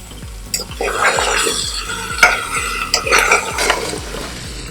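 Onion and garlic frying in a pot for chicken stock, a steady sizzle carrying a regular clatter of a spoon stirring against the metal pot and scraping, close and fairly loud, with no talking.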